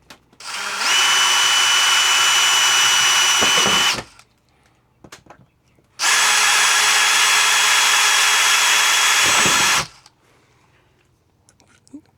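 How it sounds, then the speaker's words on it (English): A power drill bores screw holes into a plastic RV air conditioning vent in two sustained, loud, close bursts of whirring, each about three to four seconds, separated by a pause with light handling clicks. "Once I've got one screw in place, I'll drill the holes for the other two."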